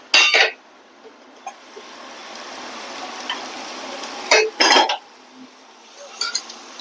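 Cauliflower being sautéed with masala in a pan, heard as a few sharp clinks and scrapes of a spoon against the pan, in three short bursts over a faint, steady background hiss.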